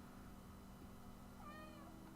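A house cat meows faintly in the distance as a single drawn-out call, heard over a steady low hum in an indoor room.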